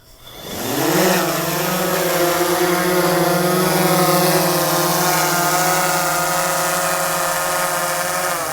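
A SplashDrone 4 waterproof drone spins up its rotors, the whine rising over the first second into a loud, steady buzzing hum that holds close and constant, flown in the rain.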